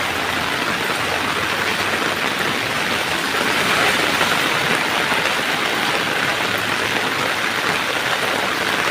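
Heavy rain pours in a dense, steady hiss with rushing flood water beneath it, loud and unbroken for the whole stretch, during flooding in Sunamganj; no voices.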